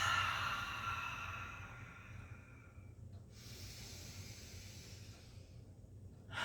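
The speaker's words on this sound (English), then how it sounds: "Exhale out with an audibility" A long, breathy exhale during a yoga flow, airy hiss strongest at the start and fading away, followed by quieter breathing over a low steady hum.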